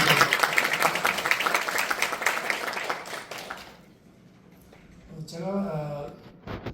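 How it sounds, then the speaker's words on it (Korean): Audience applause at a national assembly health forum, a crowd clapping fairly loudly for a few seconds before fading out, then a voice begins speaking. "우리 김용익 이사장님한테 한번 경례에 박수 드립니다."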